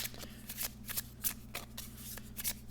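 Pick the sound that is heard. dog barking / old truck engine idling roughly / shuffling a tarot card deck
shuffling a tarot card deck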